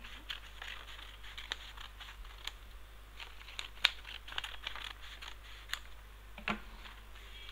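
Scissors cut a sheet of green paper for a handmade greeting card, a series of irregular snips and soft crinkles close by over a faint steady hum.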